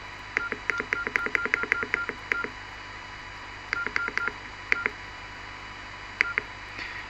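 Keypad tones from a Nokia 6120 classic mobile phone: a rapid burst of about ten short electronic beeps, then a pause, then scattered clusters of a few more presses, crisp and close with no speech.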